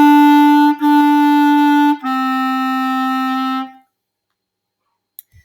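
A clarinet plays three sustained notes, each held for about a second or more with short breaks between them. The tone is clear, close and alone, followed by silence.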